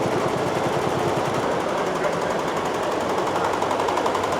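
A Platinum brand textile machine running at a textile fair in Bangladesh, a loud, steady mechanical clatter with a fast rapid-fire rhythm, continuous and close, with no break.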